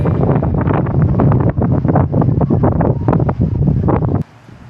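Strong wind buffets the microphone at a waterfront campsite, a loud, gusty roar with rapid surges that cuts off abruptly near the end, leaving a quiet background.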